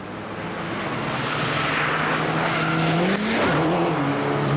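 A Mitsubishi rally car on a special stage of the 300 Lakes Rally: its engine roars loud and close, with the pitch rising steadily and then shifting sharply as it accelerates past, amid road and tyre noise.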